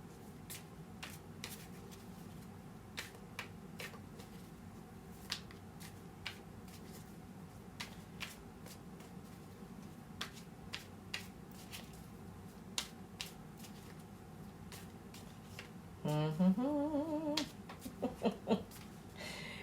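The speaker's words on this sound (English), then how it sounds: "You've made me shuffle a lot" Soft, rapid clicking and riffling of oracle cards being shuffled repeats steadily against a quiet room hum, with a brief voice-like tone near the end.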